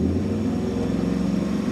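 A car engine with a misfire on one bank, cylinders 1, 3, 5 and 7, is revved up slowly, giving a steady, loud, close, lumpy idle-to-rev drone with an uneven pulsing throb.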